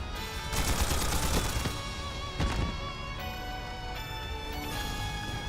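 An old antique gun fires in Trails Beyond the Horizon, a quick burst of sharp shots landing near the start and again midway, over a steady bed of game music.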